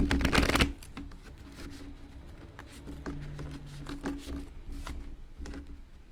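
A deck of oracle cards is shuffled by hand, a brisk riffling burst at the start followed by softer, intermittent patter and taps of cards sliding together, close and alone without talk.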